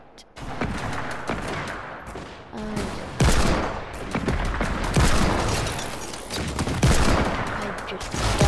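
Gunfire in the Fortnite video game, repeated loud bursts and single sharp shots in an uneven rhythm, with faint game noise between them.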